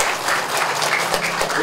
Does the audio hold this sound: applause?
yes